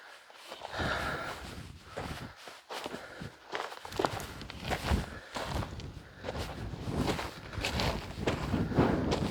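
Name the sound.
strong wind near the Meradalir volcano, Iceland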